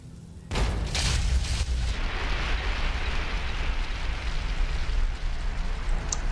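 A grenade blast from the video game Fallout New Vegas erupts suddenly into a loud, close boom, then rumbles on as a long, dense debris roar that slowly fades.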